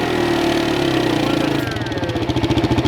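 A quad ATV engine runs close by, a steady mid-pitched drone that shifts into a rapid pulsing idle partway through, with no talk over it.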